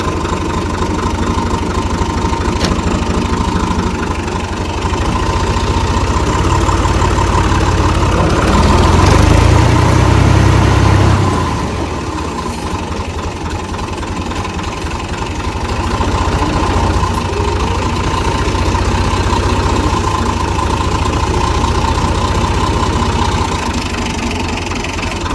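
A Russian tractor engine idles steadily and close by for the whole stretch, a low, even throb with a brief louder surge around the middle before settling back.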